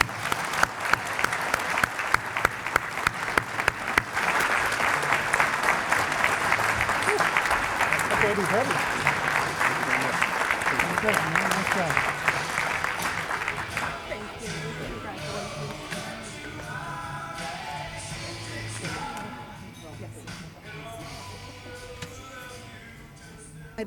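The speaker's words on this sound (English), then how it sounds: "Let's have a spirited round of applause for our 2014 Spirit of the Shore winner" An awards ceremony audience gives a long, loud round of applause with dense clapping that fades gradually, and a voice speaks over the softer tail.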